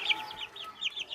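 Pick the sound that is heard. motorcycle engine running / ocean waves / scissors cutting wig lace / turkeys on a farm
turkeys on a farm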